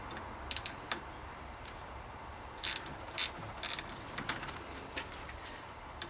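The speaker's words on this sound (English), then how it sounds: "So to undo them, just a 10mm bolt at the back. Make sure you got your spanner the right way around." Spanner working a 10mm bolt on a cantilever mountain bike brake, producing a few sharp close metallic clicks and ratcheting ticks in short bursts, spaced out with quiet gaps.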